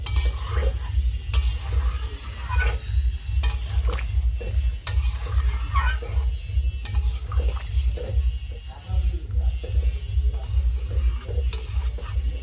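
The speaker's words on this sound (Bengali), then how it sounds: "তো এটা এখন ফুটুক ভালো করে" Chicken curry in a pot on a new gas stove, with water just added, bubbles and simmers loudly, a continuous low rumbling boil with irregular stirring scrapes and clinks.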